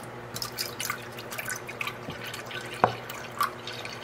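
Liquid trickling and dripping in a kitchen while chai is made, thin splashes and drips with a couple of sharper plinks, close and fairly quiet, with a steady low hum underneath.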